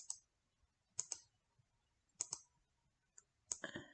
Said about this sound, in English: I'm going to click on it again so that I can rotate it